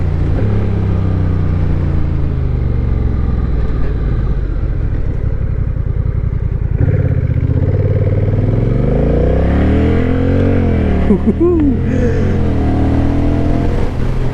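Honda Rebel motorcycle with a DCT automatic gearbox, engine running loud and close while riding, rising and falling as it shifts and accelerates, with wind rumble throughout.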